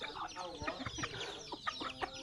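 Bantam chickens cluck in short repeated bursts around a rural Thai village homestead, several birds close by making quick overlapping calls against a light outdoor background.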